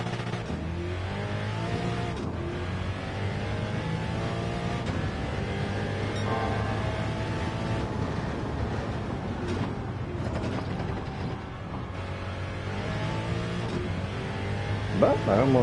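Ford GT40 engine in a racing game set at Le Mans, a steady loud droning rev with rising and falling pitch as gears shift, continuous throughout with a brief dip near the end.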